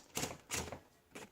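Three separate keystrokes on a 1938 Corona Sterling portable typewriter, close and crisp, each a sharp mechanical clack spaced unevenly apart, with no voices.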